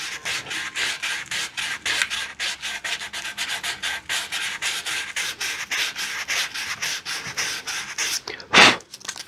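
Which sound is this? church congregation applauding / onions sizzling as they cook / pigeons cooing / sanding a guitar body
sanding a guitar body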